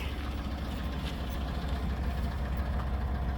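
A truck engine just after start-up runs at a steady, rumbling idle with a deep low-end throb, close by and continuous throughout.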